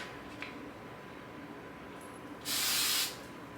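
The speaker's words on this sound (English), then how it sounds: "And then I always like to spray these little spikes just to give them more texture, and spray the bun as well." A can of hairspray is sprayed onto hair in one short, loud, close burst of hiss lasting about half a second, after quiet room noise.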